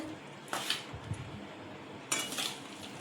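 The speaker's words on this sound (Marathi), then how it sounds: "असं तेल थोडं थोडं टाकून असं मिक्स करून घेत आहोत" Oil poured a little at a time into a bowl and mixed with a spoon, giving two short bursts of clinking and scraping against the dish, close and moderately loud, with a quiet pause between.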